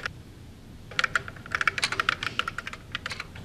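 Rapid clicking keystrokes patter on a computer keyboard, starting after a short quiet pause and continuing in an uneven, fast run of close, crisp taps.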